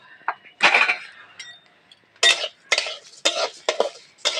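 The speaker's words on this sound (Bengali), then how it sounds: "এবার চালটাকে পুরো ভেজে এরকম অটোমেটিক, মানে সবসময় এরকম নাড়তেই থাকবে, নাহলে কিন্তু পুড়ে যাবে।" Rice being dry-fried in a wok with no oil for chaler nadu, a spatula scraping and clinking against the metal in irregular bursts of stirring, close and clear with short pauses between strokes.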